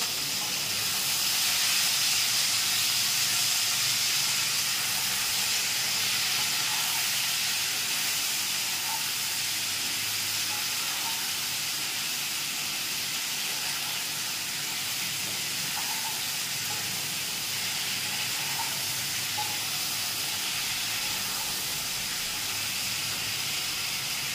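Navaratna curry sizzles in a pan while being stirred, giving a steady, close hiss of frying that runs throughout with little change and a few faint scrapes, no talk over it.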